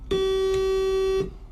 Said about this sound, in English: That's the sound of your buzzer.